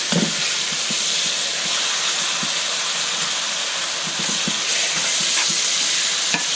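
Onions and beef frying in a pan, a steady dense sizzle and hiss with faint scattered pops and clicks, close and continuous.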